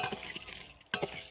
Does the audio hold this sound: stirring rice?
yes